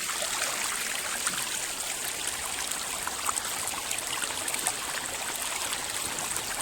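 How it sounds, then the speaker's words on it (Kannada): Water from a mountain stream on a hillside flows in a constant bright, hissing rush, close and steady throughout, with no voices. "ಬೆಟ್ಟದಲ್ಲಿ ಎಷ್ಟೋ ಬೇರ್ಗಳ ಮುಖಾಂತರ ಹರಿದು ಬರ್ತಾ ಇರ್ತವೆ"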